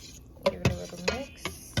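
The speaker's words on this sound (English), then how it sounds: "Give it a little mix." Green juice being stirred in a glass or jug, giving a handful of sharp, close spoon clinks and ticks spaced unevenly over a couple of seconds, with a faint voice briefly underneath.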